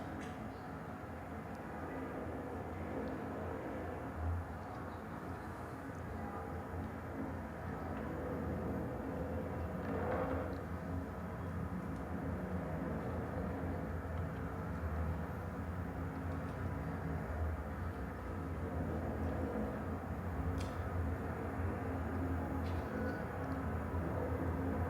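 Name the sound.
wind, traffic and a building heard through contact listening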